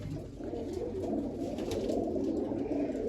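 Domestic black-pushed pigeons give soft, rolling coos that continue steadily and fairly quietly, nearby, without any talking.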